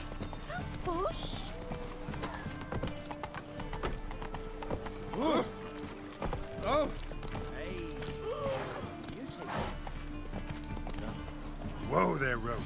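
Roach the horse gallops in The Witcher 3, with steady rhythmic clip-clop hoofbeats throughout, occasional whinnies, and people talking over the running.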